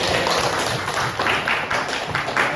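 A school class applauds after a group presentation, with a loud, close burst of many hands clapping steadily from start to finish.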